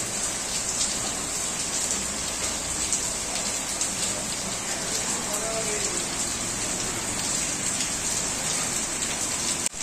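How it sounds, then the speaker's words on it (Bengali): Heavy rain falls steadily outdoors, a dense continuous hiss of drops drumming on surfaces at close range, with no voices heard. "বাইরে বেশ ভালোই বৃষ্টি হচ্ছে"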